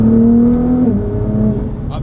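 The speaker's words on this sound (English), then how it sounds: "the downshifts are pretty quick." A 2019 Nissan GT-R engine revs loudly and steadily as its transmission downshifts, with a pitch change partway through and a brief higher blip near the end.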